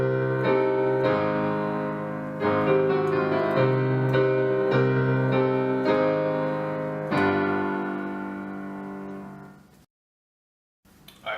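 Solo piano plays the chorus of a piece, a steady run of sustained chords with a bass line moving underneath, ringing out at the end before a brief silence and a fresh note.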